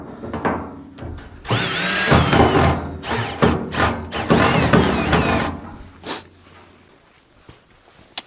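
A power drill whirs in several bursts of varying length while tightening a nut during assembly of a Dyna Glo forced air heater. The bursts are close and loud, separated by brief pauses, then the clip ends on quieter handling clatter.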